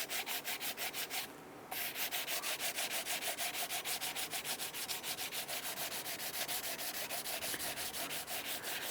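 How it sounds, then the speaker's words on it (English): Sandpaper wrapped on a wood block is rubbed briskly over a surface during exhaust manifold stud repair on a 1999-2004 Jeep Grand Cherokee, a steady rhythmic rasp of even back-and-forth strokes with one brief pause, close and continuous. "Use your sandpaper and go ahead and clean up the surface"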